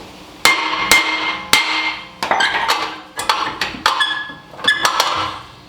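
A hammer strikes the rear brake drum of a Toyota 4Runner to loosen it, giving about a dozen sharp metallic clanks at an uneven pace, some in quick pairs, loud and close.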